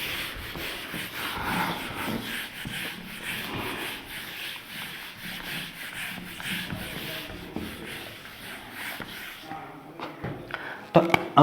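Scratchy rubbing of a board being erased during a thermodynamics lecture, a steady rhythmic swishing for several seconds that ends in a few knocks, with a lecturer's voice talking over it.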